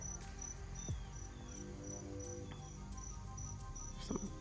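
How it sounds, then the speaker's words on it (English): Cicadas in a backyard garden with grapevines produce faint, regular pulsing chirps repeating steadily against quiet outdoor background noise. "So we got cicadas eating our grapes too."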